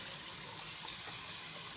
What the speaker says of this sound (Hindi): 1 जग पानी डाल देना है